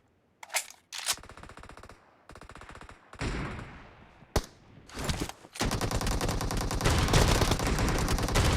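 Shotgun and automatic gunfire in BGMI during a warehouse team deathmatch, loud close bursts separated by short gaps, building into dense continuous firing toward the end.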